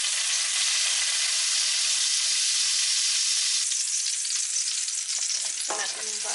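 Garlic sautéing in olive oil for a seafood pasta, a loud, close, continuous sizzle that holds steady throughout, with a few faint stirring clinks near the end.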